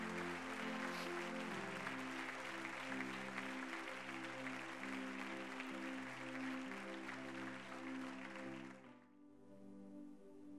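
A church congregation applauds in sustained, dense clapping over steady music with low sustained chords, the applause continuing for several seconds before cutting off and leaving the music alone.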